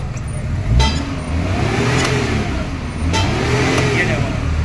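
A Maruti Omni van engine, just switched over to run on gas, idles and revs in repeated rising and falling surges, loud and close, with sharp clicks between the revs.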